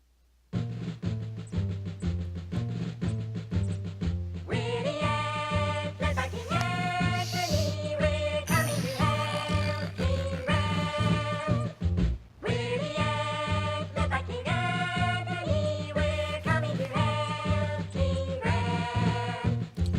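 A bright, bouncy synthesized melody plays continuously for the singing ants in the King's Quest V computer game, with a steady pulsing beat and repeated phrases, a brief pause near the middle, and no voices.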